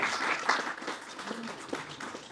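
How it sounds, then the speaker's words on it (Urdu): An audience at a North American literary gathering applauds in a steady, moderately loud wash of clapping that holds throughout. "ظفر تقوی صاحب کے لیے تالیاں بجائیں"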